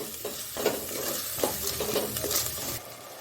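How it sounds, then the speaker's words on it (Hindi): Tomatoes fry with salt in a pan, giving a steady close sizzle broken by scraping stirs at a few points, with no one speaking. "तो इसको भी भुनेंगे टमाटर को भी"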